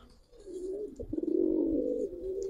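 A Giribaz pigeon gives a single close, resonant coo that swells and rolls in the middle before trailing off, with faint rustling around it and no speech.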